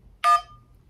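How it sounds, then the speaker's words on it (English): A single telephone keypad tone sounds once, pressing 1 to accept a call: one short, clear electronic beep lasting under a quarter second, isolated in near silence. "to accept this call, press 1 now"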